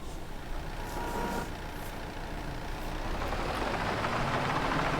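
A skid steer loader in Farming Simulator 22 drives along with a steady, close engine drone that slowly builds in loudness, with no talk over it.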